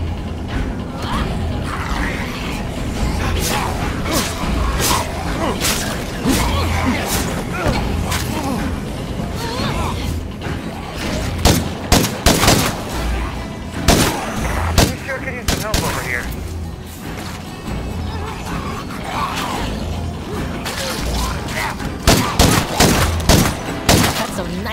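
Dense gunfire rattles through a zombie fight in State of Decay 2, with rapid sharp shots layered over a constant loud game din. A voice talks through the shooting.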